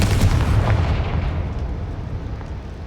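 Confringo and Bombarda spell explosions in the Hogwarts Legacy video game: a loud, booming blast rumbles at the start and then fades into a low, dying roar.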